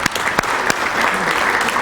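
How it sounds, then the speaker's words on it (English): Loud, close applause from a chamber of commerce breakfast audience, a dense, steady roll of many hands clapping throughout. "let's give him a round of applause anyway."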